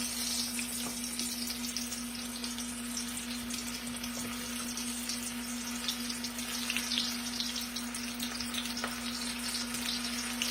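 Green tomatoes sizzle and crackle in hot grease, a continuous soft frying hiss with a faint steady hum underneath.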